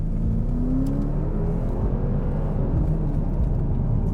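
A Mercedes-Benz S560 of the W222 generation accelerates, its exhaust giving a deep, continuous low-pitched drone with slowly rising engine tones, close and steady throughout with no talking.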